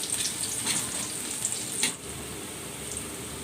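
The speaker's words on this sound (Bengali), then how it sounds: "এই পেঁয়াজগুলো ভেজে তুলে তারপর মশলা দিব।" Onions and dried red chilies fry in a pan, giving a steady close sizzle that drops a little in level partway through and then carries on evenly.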